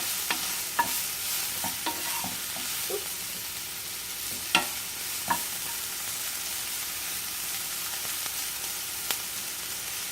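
A Greek omelet cooks in a pan, a soft steady sizzle with faint scattered clicks and scrapes, close and quiet, with no talk.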